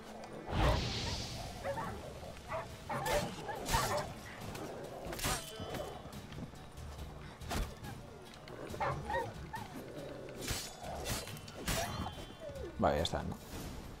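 Dogs bark and yip repeatedly in The Witcher 3 game world, sharp barks recurring throughout amid whooshes, clanks and other game ambience, with someone talking over them.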